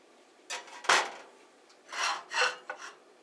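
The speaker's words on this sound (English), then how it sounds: "I always like cutting mine down the middle" A knife saws through a grilled cheese sandwich on a cutting board in a few separate rasping, crunchy strokes, close and fairly quiet with brief pauses between cuts.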